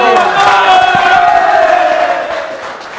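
An audience cheering and shouting during a Neapolitan neomelodic music show, a loud burst of whoops and crowd roar that swells quickly and then fades over a few seconds.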